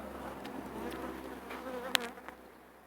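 A steady, soft drone of many honeybees buzzing together at an open hive during maintenance in Nevşehir, Turkey, continuous and close, with a faint tap partway through.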